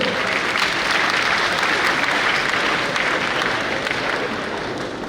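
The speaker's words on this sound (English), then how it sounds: "A round of applause for him." Sustained audience applause at an academic symposium at KNUST, a dense, steady wash of many hands clapping together for the full stretch, loud and even, easing slightly at the end.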